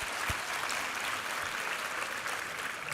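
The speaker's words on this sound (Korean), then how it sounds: "우리 하나님께 감사와 영광의 박수 올려드리겠습니다." A church congregation applauds during a Korean Sunday worship service. The clapping is steady and full, a crowd's sustained round of applause at an even level throughout, with no speech over it.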